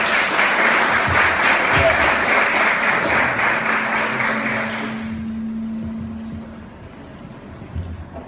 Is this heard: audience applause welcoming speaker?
yes